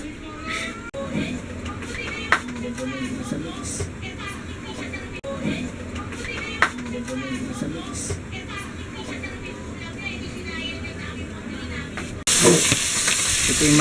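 Ginisa mix sautés in hot cooking oil with a steady sizzle and popping spatter under people talking, then the hiss swells much louder near the end.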